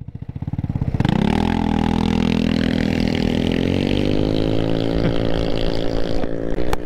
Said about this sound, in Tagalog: Nagpalit kami ng scooter ni Mr. Sarap.